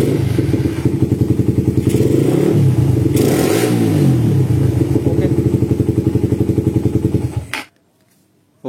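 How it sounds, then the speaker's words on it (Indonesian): A tuned Suzuki Satria FU motorcycle with reworked carburetor, CDI and exhaust revs hard close by, its rapid pulsing exhaust climbing and falling through several throttle blips before the engine cuts off abruptly near the end. "Mesin sudah enak, karbu CDI knalpot sudah oke, settingan sudah pas."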